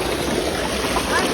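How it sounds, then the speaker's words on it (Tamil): Stream water flows steadily at Kundaru in Courtallam, a continuous broadband rush and trickle that stays fairly close and even throughout, with faint voices mixed in underneath. "தண்ணி சத்தம் கேட்கா"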